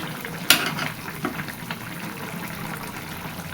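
Fish added to a pan for a curry with ridge gourd and potato, a sharp splash of hot oil on entry followed by a soft, steady frying sizzle with occasional stirring scrapes, no talk.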